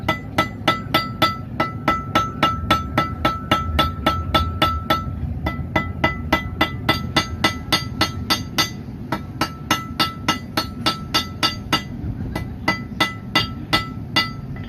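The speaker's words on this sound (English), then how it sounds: "I can hammer it back to square" Steady, rhythmic hammer blows on hot steel against an anvil ring out close by, bright and clanging, with brief pauses between runs of strikes.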